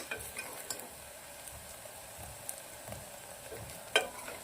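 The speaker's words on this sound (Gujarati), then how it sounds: "મસાલાને થોડો આવી રીતે સાંતળી લેશું આપણે 2 મિનિટ" Turmeric, coriander-cumin powder and salt sautéing in a pan, a soft, steady sizzle with quiet stirring scrapes and one brief metallic clink near the end.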